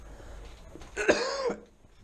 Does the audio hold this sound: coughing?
yes